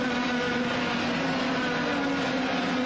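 Rotax-engined racing karts at the 1994 Formula A Karting World Championship final in Argentina, a steady, loud, buzzing high-revving engine drone held throughout.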